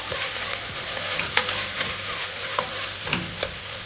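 Green chillies sizzle and are stirred in a pan of frying masala for a beef curry. A steady frying hiss runs throughout, broken by occasional spoon taps and scrapes against the pan.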